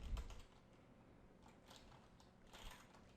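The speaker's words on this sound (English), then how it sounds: "I'll be using a keyboard shortcut to pull up the stroke menu." Quiet computer keyboard typing during Photoshop line work, a few soft key clicks at close range, the first press slightly louder and the rest in sparse taps with no voice.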